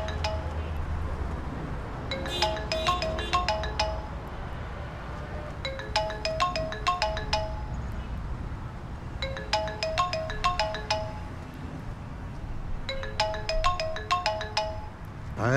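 A phone ringtone plays in four repeated bursts of bright, chiming electronic notes separated by short pauses, moderately loud over low background noise.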